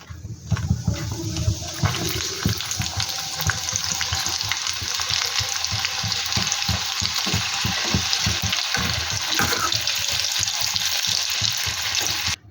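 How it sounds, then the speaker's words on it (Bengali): Chicken popcorn pieces deep frying in hot oil on high flame, a loud continuous bubbling sizzle with frequent stirring clatter, close by and without speech. "এবারে আমি এগুলোকে হাই ফ্লেমে ভেজে নেব লাল লাল করে।"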